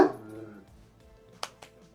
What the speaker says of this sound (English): You guys hear my dog going crazy.